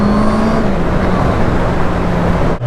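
A Honda CB650R motorcycle's inline engine rumbles steadily through its standard exhaust, a close, loud, even drone with a low tone that holds and dips slightly before cutting off abruptly near the end.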